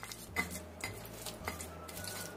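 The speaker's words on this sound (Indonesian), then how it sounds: "Ini kita ulek sampai halus semuanya." Spices are ground by hand with an ulek mortar and pestle: about four regular strokes about half a second apart, each a dull knock with a short scraping grind, close and fairly quiet.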